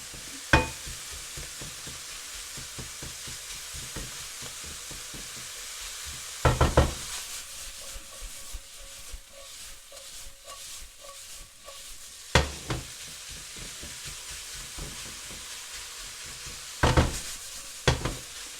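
Venison mince frying in a pan with little oil, a soft continuous sizzle broken by several sharp knocks and scrapes of a utensil against the pan.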